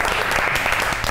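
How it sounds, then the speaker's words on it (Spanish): Audience applause closing a Spanish-language talk show, loud, close and continuous clapping throughout the short moment. "un aplauso para ustedes"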